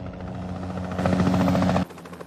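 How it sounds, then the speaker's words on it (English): A helicopter's rotor thumps steadily with a low pulsing drone, growing louder for a moment before cutting off abruptly, in a horror film scene. "I hear a helicopter."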